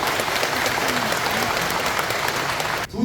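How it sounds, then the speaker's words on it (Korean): Dense, steady applause from a residents' meeting audience fills the room, broad and sustained, then breaks off abruptly near the end as a voice begins. "박수 한번 칩시다."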